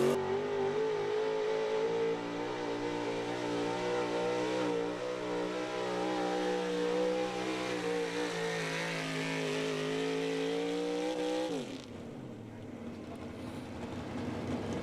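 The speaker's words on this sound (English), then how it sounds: "Dennis Nicholson, a 1971 Chevy called the Wild Thing from Normalville, Pennsylvania." A 1971 Chevy pulling truck at a truck and tractor pull roars with a loud, sustained engine rev, its pitch holding and climbing steadily for about twelve seconds before dropping off sharply, leaving quieter event noise.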